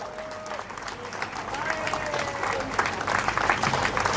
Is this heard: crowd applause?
yes